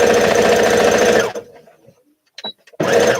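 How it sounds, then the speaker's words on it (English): Sewing machine stitching the cuffs of a Simplicity S8855 garment, a loud steady mechanical whir lasting over a second, stopping, then resuming after a short quiet gap with faint handling sounds. "So this part that I'm sewing is the cuffs."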